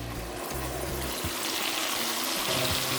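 Hot water pours into a pot of brown stew pork for a Jamaican Sunday dinner, a close steady splashing gush with a hollow low rumble as the pot fills.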